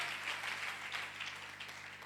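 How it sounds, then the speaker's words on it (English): A church congregation claps their hands together in praise, a dense, steady wash of applause at moderate loudness that runs the whole way through with no clear voices on top. "clap your hands for Jesus Hallelujah"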